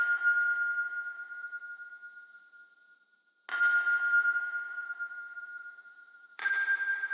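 A bright, sustained synth key tone from a hip-hop beat played alone, fading slightly before restarting twice with a sharp attack.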